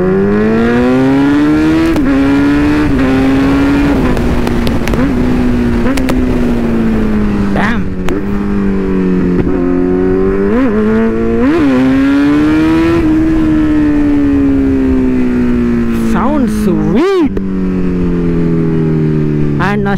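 A Kawasaki Z900 motorcycle accelerates hard, heard loud and close from on board. The engine note climbs repeatedly through the gears with short dips at each shift, under constant wind rush.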